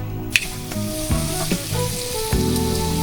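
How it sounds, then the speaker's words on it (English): A cracked egg fries in a hot pan with a loud, continuous sizzle and crackle, heard up close with a few sharper pops and light clinks over the top. "grab 1 egg, crack that onto a pan"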